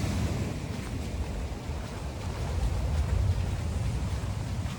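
Continuous wash of sea waves against a coast with a wrecked seawall, mixed with low wind rumble, steady and fairly loud, with no voices.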